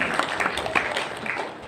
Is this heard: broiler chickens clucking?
no